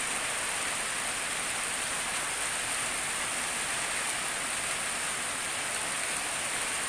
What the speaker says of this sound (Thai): ฝนตกอะไรเนี่ย